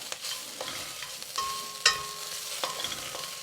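Tomato paste and roux cooking in a pan, stirred with soft scrapes and a few light clinks over a low, steady sizzle, close and fairly quiet with no talking.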